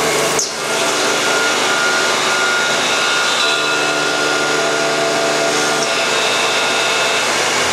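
A scratch-built mini CNC mill with a roughing tool plunges into a workpiece, giving a loud, dense, steady whine and roar with a sharp start and slight shifts in tone partway through.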